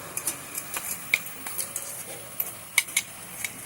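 A spoon scrapes and clinks in a pan as ginger-chili paste is stirred into potato and cauliflower, with irregular light taps and scrapes over a faint sizzle.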